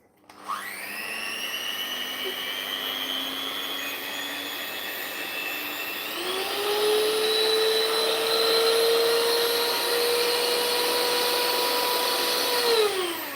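An electric hand mixer whirs steadily, close and fairly loud, then shifts to a higher, stronger speed about halfway through before cutting off.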